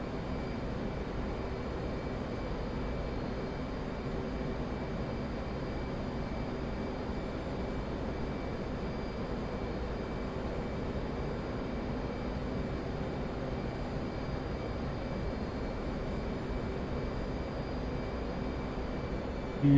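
Steady, unbroken jet engine roar from an F/A-18 Hornet in the DCS World flight simulator as throttle is added during a carrier approach, a constant broadband drone with faint tonal whine and no talk.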